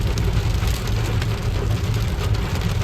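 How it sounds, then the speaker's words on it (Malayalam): Heavy rain pours steadily over a vehicle driving through the Wayanad forest, a dense, continuous wash of drumming on the glass and roof with no voices. "ഇവിടെ ഇപ്പോൾ അത്യാവശ്യം നല്ല മഴയല്ലേ."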